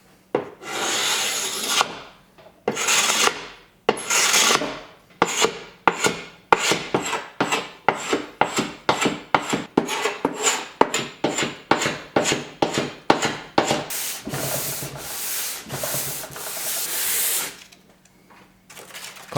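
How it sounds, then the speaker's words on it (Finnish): Scraping and sanding a wooden board, rough rasping strokes repeated in a quick, uneven rhythm, close and fairly loud, with a longer continuous scrape near the end. "Kaavin ja hion levyn puhtaaksi toivoissani, että pinnan väri tasoittuu"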